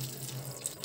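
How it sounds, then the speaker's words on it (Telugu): Water pours in a steady, close stream over puffed rice to soak it for Rayalaseema uggani, a brief continuous splashing rush with no voices. "నీళ్ళు పోసి బొరుగులు అనేటివి నానబెట్టుకోవాలండి"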